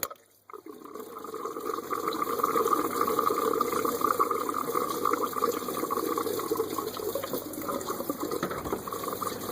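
Coolant draining from the engine of a 2007 Suzuki XL-7 with a 3.6L V6 into a container, a steady gushing stream of liquid that starts abruptly and continues at an even level, close, no talking.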